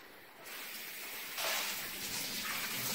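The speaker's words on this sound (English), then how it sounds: "Let me just rinse the pot real quick." Water runs steadily from a kitchen tap while a cooking pot is rinsed, a continuous close hiss and gush that swells louder partway through, with no talking.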